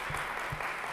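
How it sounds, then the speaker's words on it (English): Applause from a city council meeting audience for a girls' school sixth-grade volleyball championship team, a steady, dense burst of clapping filling the room throughout. "So let's give them a round of applause."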